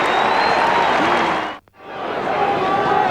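Collingwood football fans roar and jeer at Brisbane players in a loud, dense crowd wash at Victoria Park in a 1999 AFL match, the noise dropping out abruptly midway before swelling back to full volume.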